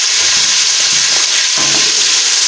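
Beef frying in a pan with garlic and ginger paste, a dense steady sizzle filling the whole stretch, with a few faint stirring scrapes beneath it and no voices.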